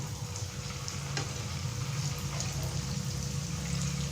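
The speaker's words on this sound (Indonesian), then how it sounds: "untuk satu tahu ini aku jadikan 2 kali menggoreng ya teman-teman, supaya di dalam minyaknya itu nggak terlalu crowded gitu" Battered tofu deep-frying in a pan of hot oil, a steady dense sizzle and bubbling that holds at an even loudness throughout, with no voices.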